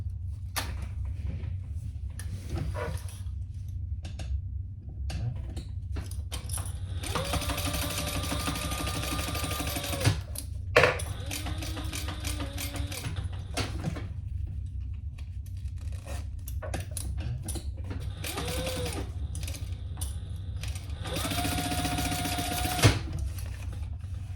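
A sewing machine top stitches a festival hip bag in several separate bursts of rapid mechanical whirring, with quiet pauses and handling clicks between the runs.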